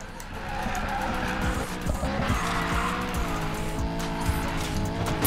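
A car in the Need for Speed Payback racing game, a BMW M3 E92, skids with squealing tyres and a roaring engine before clipping another vehicle, steady and loud without talk.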